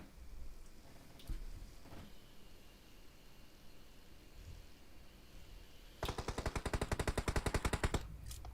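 A long burst of rapid automatic gunshots in an esports shooter match, evenly spaced cracks firing for about two seconds, loud against a steady hiss of game background noise.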